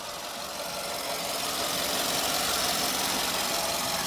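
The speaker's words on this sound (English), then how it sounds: "this engine runs amazing, really awesome, very powerful." A 2011 Ford F-150 King Ranch pickup's twin-turbo V6 engine idles close by, a continuous broadband rumble with a faint rhythmic knock, holding an even level throughout.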